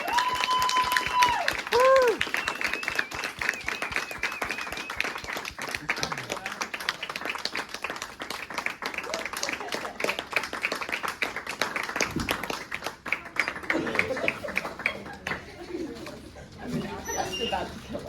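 A theatre audience applauds after a short play at a ten-minute play festival, a long run of dense, rapid clapping that gradually thins, with voices and some chatter mixed in toward the end.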